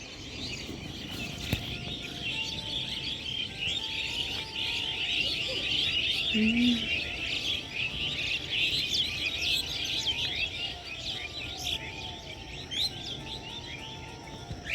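Many small birds chirp and twitter steadily in an open mustard-green field, a dense, continuous chorus with a faint insect buzz underneath.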